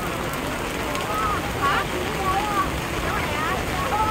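Heavy rain pours during a storm in Hong Kong, a steady hiss of downpour on surfaces throughout, with a voice talking over it.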